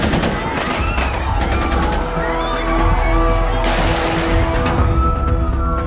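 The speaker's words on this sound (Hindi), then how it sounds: "दो अनजान आदमी छत्रपति शिवाजी टर्मिनस में घुसे और गोलियां चलाने लगे।" Rapid bursts of gunfire in an action film scene of an attack on Chhatrapati Shivaji Terminus crackle loudly over a dense, chaotic din with rumbling and tonal sounds, clustering in volleys early and again midway.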